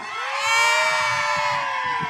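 A crowd at a Thai likay performers' association event gives a sustained, high-pitched scream and cheer lasting about two seconds, loud and continuous without words.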